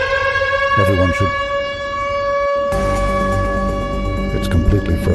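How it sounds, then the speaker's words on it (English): A loud, steady wailing avalanche warning siren in the video game Nobodies: Silent Blood sounds continuously with strong harmonic tones, with some clatter and rumble joining partway through. "There's the avalanche siren."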